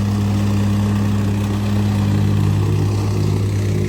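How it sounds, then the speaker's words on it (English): A small plate tamper compacting a walkway base in thin lifts gives a loud, steady engine drone with a constant low hum, running without pause throughout and no voices. "Using a little tamper today."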